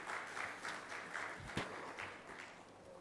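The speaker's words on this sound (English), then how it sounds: "I'll request him now for his address amidst a round of applause from all of you" Audience applause at a national mining ministers' conference, a hall full of people clapping steadily at moderate distance, with a sharper close clap near the middle before the sound gradually thins.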